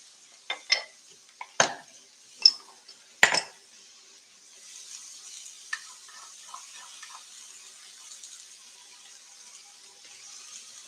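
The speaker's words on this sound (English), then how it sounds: "So we're going to sizzle this down." Garlic sizzles in a frying pan while lentil nachos are cooked. A few sharp clanks of utensil against pan come first, then a faint, steady sizzling hiss continues alone.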